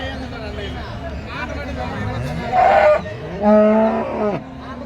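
Cattle, including Jersey cows, low and moo repeatedly at a busy livestock market in Karimangalam, with a couple of drawn-out calls rising above a steady hubbub of crowd chatter and someone talking.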